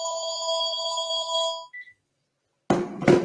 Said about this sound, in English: The phone's ringing off the hook.